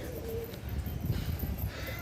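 Soft, low cooing from pigeons close by, a few murmuring phrases against quiet background noise.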